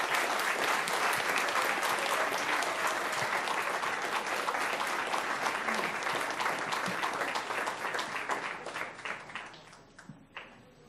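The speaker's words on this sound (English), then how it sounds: "Let's give them all a big round of applause." An audience at a school board meeting breaks into sustained applause, many hands clapping loudly for several seconds before thinning out into scattered claps and fading away.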